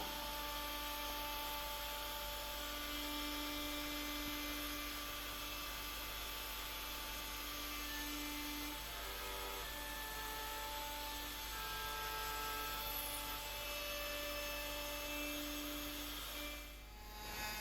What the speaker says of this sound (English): using my bigger router then just to route that control cavity